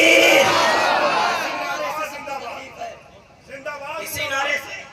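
A large crowd at a religious gathering loudly chants a slogan back in response to a call, a strong burst of massed voices that fades into scattered shouts and murmurs.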